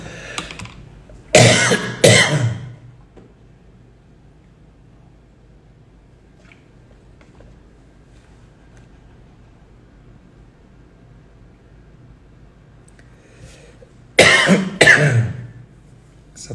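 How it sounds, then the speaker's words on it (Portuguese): Two short coughs close by, then a long stretch of quiet room tone, then another pair of coughs near the end. "tossinha veio agora"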